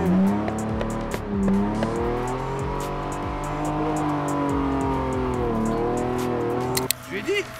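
A car drifts with a loud engine roaring and revving as its tires squeal in long skids, close and sustained, while people speak over the noise.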